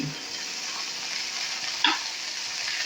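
Jujubes with salt stirred in a hot pan, giving an even close sizzle and a single sharper scrape of the spoon partway through.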